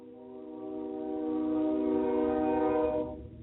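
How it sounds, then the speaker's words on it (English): A slow-moving train sounds one long, sustained horn blast from a moderate distance, swelling and then cutting off, with a low rumble underneath. "Yes, that is a train."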